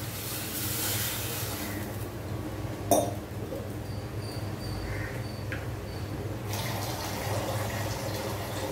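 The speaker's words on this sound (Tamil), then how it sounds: "இந்த மாதிரி ஒரு செம்பளவுக்கு மறுபடியும் தண்ணி ஊற்றுறோம்." Water pours from a vessel into a cooking pot while tomato pepper rasam is being made, a steady close splashing stream with a brief clunk partway through.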